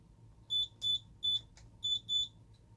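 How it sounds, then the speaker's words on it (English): A Simplex 3001 alarm panel gives its arming beep as five short, bright electronic tones in an even rhythm, close and clear over a quiet room hum. "You got your little arming beep"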